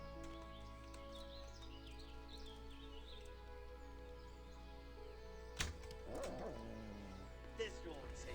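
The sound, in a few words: dogs barking in the video game Kingdom Come: Deliverance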